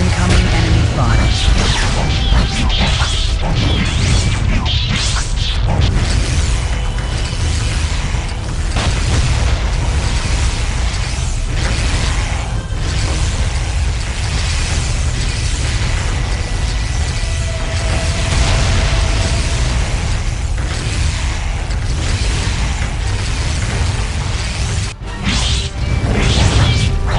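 Incoming enemy fire in a Warhammer 40000: Dawn of War – Soul Storm battle in Sama District, Eldar side, as dense booming explosions and crashing impacts roll almost continuously, loud and close, with voices mixed into the din.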